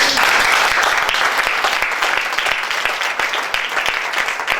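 A church congregation applauds loudly and continuously, dense clapping that holds at near-constant strength throughout.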